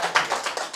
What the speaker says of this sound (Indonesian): Jadi tepuk tangan dulu untuk guru-guru yang ada di Indonesia.